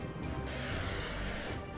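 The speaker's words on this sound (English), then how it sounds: "I'm just gonna take some cooking spray and grease it" Cooking spray hisses from an aerosol can onto a large bundt pan, a steady close spray lasting over a second with no talking.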